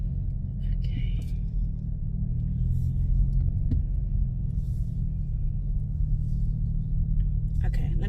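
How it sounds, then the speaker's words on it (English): A car engine runs after a jump start, a steady low rumbling idle that continues throughout, close by, with people talking faintly over it. "his car started"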